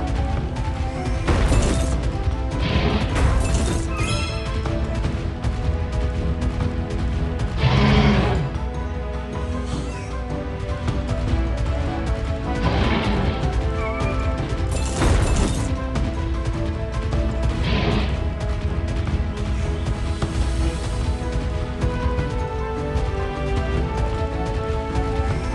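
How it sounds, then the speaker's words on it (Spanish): Rocks get smashed inside a volcano level of a Paw Patrol video game, with repeated cracking crashes scattered over loud, continuous game music and effects. "¡Puedes romper las rocas para encontrar más!"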